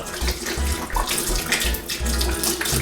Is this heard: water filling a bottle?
yes